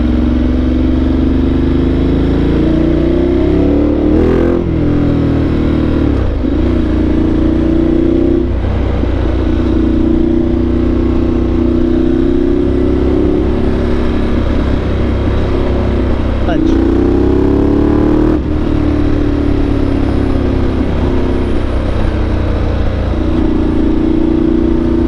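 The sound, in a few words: Ducati Multistrada 1200 Enduro motorcycle engine revving while riding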